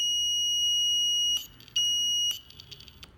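A loud, piercing electronic alarm tone from a buzzer controlled by a Raspberry Pi blares steadily, cuts out briefly, then resumes before stopping abruptly, leaving faint background noise.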